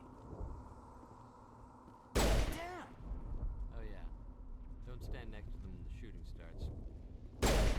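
Gunfire in the video game Mass Effect shoots down floating gas bags: two sharp, loud bursts stand out, with game sounds and effects in between and someone talking throughout.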